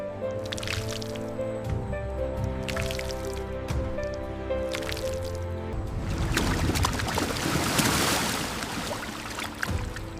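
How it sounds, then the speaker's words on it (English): Wet paper pulp being squeezed and crushed into mush: continuous squishing, dripping and sloshing, wetter and louder in the second half, with machinery hum underneath. "Squeezing out the excess water. Crushing it down into a fine mush."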